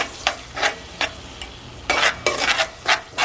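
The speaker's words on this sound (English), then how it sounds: "Okay, and now we're going to give this a mix." Sofrito and tomato sauce being stirred in a pot for coconut-milk Arroz Moro, heard as a series of short scraping, sloshing strokes, several separate swipes with gaps between them, close and fairly loud with no one talking.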